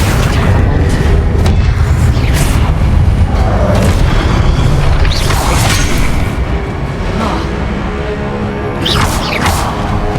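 Spells cast in the video game Hogwarts Legacy, Accio and Descendo, land as deep booming impacts with crashing magical whooshes, loud and continuous over a dense game soundscape, with no talk.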